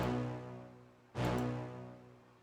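A single sampled hit from a trap-style beat, a sharp bright strike with a long ringing decay, heard alone over a sustained tonal bed with no voices.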